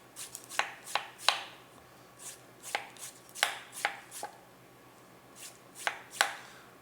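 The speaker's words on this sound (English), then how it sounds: "We gotta peel our veg." Parsnip and butternut squash being peeled for soup, a series of crisp scraping strokes in irregular bursts, close and fairly quiet, with no talking.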